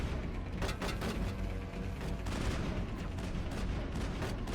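Rifle fire in the Mass Effect video game, as a steady burst of shots layered over continuous combat noise. A few louder cracks stand out, and there is no talking.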